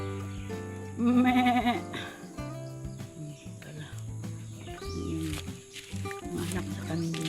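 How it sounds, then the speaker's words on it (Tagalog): A young goat on a rural farm gives a bleat, close and clear, while someone talks nearby and crickets buzz steadily in the background. "Anak sa kambing."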